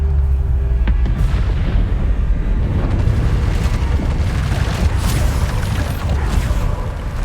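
Bombarda spell explosions boom in the magic combat of the game Hogwarts Legacy, a loud, continuous rumbling roar of deep blasts with no spoken voice.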